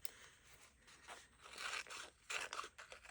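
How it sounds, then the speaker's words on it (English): Quiet snipping and tearing of paper, a few crisp cuts and crinkles in short bursts, close up, with no talking. "I'm just going to grab some scissors and cut her out"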